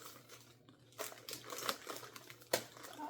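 Tape is peeled and pressed onto a handmade lighted narwhal craft near a ceiling fan, making quiet crinkling and tearing sounds in short irregular bursts, with one sharper rip near the end.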